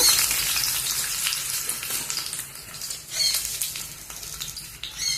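Garlic frying in hot oil in a pan on a lit stove, a dense, steady crackling sizzle with bright spattering pops throughout, close and alone with no voices.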